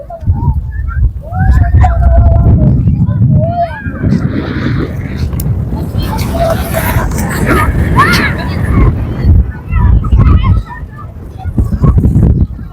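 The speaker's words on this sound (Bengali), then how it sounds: "বাতাস বন্ধুরা সেই বাতাস" Strong wind buffets the microphone on the Padma riverbank near the Padma Bridge, a loud, low rumbling roar that gusts for most of the stretch while people call out and talk over it.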